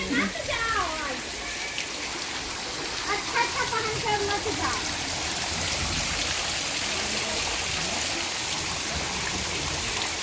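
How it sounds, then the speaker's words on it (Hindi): Steady rush of rainwater dripping and splashing through a thatched roof, continuous and fairly loud, with a voice speaking faintly over the first few seconds. "छप्पर से चू रहा है पानी"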